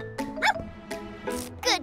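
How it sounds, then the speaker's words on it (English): A cartoon dog, transformed into a sniffer dog, lets out a quick series of five or so short, bright yips and barks, close and fairly loud, with no talking over them. "Morphle, morph into a sniffer dog!"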